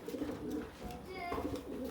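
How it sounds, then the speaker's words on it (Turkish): Soft, low cooing of a stray pigeon on a balcony close by, with faint chirps and background rustling and noise throughout. "Balkonumuza kaçak güvercin gelmiş."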